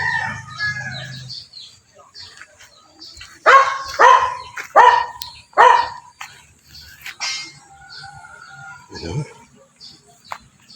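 A rooster crows several times in a row in a rural yard where a bamboo hut is being built, fairly close and clear, with background noise and a faint voice toward the end.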